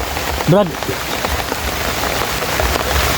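Steady rain patters on a surface nearby, a dense continuous wash of drops, with a brief voice-like sound cutting in early on.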